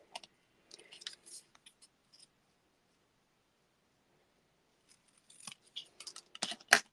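Scissors cutting card paper for a card sketch, quick sharp snips in two short bursts separated by a quiet pause, close and fairly faint, with no talk.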